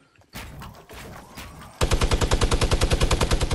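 Minigun fire in the Fortnite video game: after a stretch of muffled background noise, a loud, rapid, evenly spaced stream of shots starts suddenly and runs without a break to the end.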